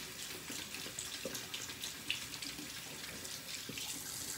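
Running tap water pours steadily into a sink as a face cleansing brush is rinsed under it, a continuous close hiss and splash with no talking.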